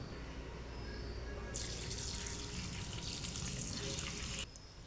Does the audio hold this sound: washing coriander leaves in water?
yes